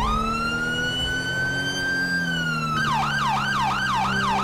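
A police siren wails loud and close in GTA 5 during a code 3 response, starting with a long rising and falling wail, then switching to a fast repeating yelp over a steady engine drone.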